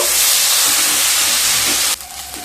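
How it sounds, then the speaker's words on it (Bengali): Onion paste hitting hot oil: a loud, dense, close frying hiss that holds steady, then drops sharply to a quieter sizzle near the end. "পেঁয়াজ দিয়ে হালকা ভেজে নেব"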